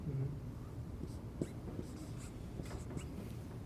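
Marker or chalk writing on a board during a calculus lecture on improper integrals, giving faint scratchy strokes in short bursts over a quiet room hum.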